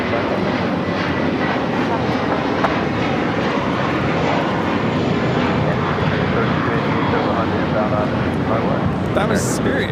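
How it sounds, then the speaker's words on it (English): A Spirit Airlines A321 jet roars through its takeoff run at LAX, a loud, dense, sustained engine rumble holding steady throughout, with the aircraft heard close and continuous. "That was Spirit Airlines 375 taking off to Houston Intercontinental on the A321."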